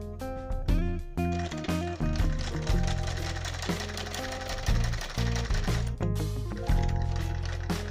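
A sewing machine stitches the crotch gusset of a garment with fast, steady mechanical chatter, loud and close, pausing briefly now and then before running on again.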